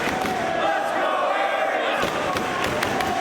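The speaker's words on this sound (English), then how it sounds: "Crowd trying to rally Aries here." A pro wrestling crowd roars steadily in an arena, rallying behind Austin Aries, with a commentator talking over the noise and sharp thuds from the ring cutting through.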